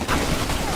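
Rapid gunfire from Stranglehold crackles in a dense, continuous burst for under a second, loud and up close with no speech.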